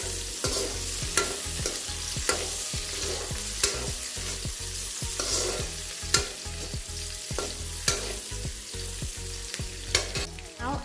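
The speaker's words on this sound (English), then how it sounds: "Add sliced onion and fry it for a minute on high flame." Sliced onion frying in oil on high flame in a street-style chowmein pan, a steady close sizzle broken by regular scraping strokes of a spatula stirring roughly once a second.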